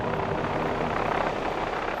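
A police helicopter flies overhead during a stolen-car chase, its steady loud rotor and engine roar filling the air without any break.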